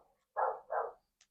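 A dog gives two quick, close barks in a row in a quiet indoor space, followed by a tiny faint yip.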